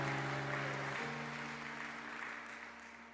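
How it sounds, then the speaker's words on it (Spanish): Church congregation applauding during a Spanish-language sermon, a dense steady wash of clapping over sustained organ or keyboard tones that shift midway, fairly loud and even throughout. "¿Le pueden dar un aplauso a Jesús?"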